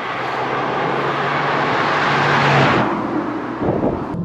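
A Renault Megane RS250 Cup sweeps through corners in third gear, a loud sustained engine and road roar from the cabin that swells then drops abruptly as the driver lifts off near the end.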